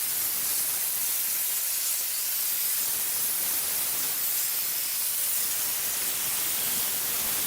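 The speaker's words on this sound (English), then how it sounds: "I'm just going to go with the regular steam because it's pretty powerful" A portable steam cleaner sprays steam onto a dirty stovetop, giving a steady, close hiss that runs without a break from start to finish, with no voices.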